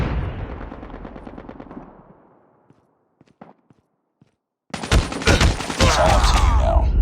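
Close, loud automatic gunfire rattles in Call of Duty Mobile on the Tunisia map, then a near-silent stretch with a few scattered shots before a dense, heavy burst of sustained firing takes over.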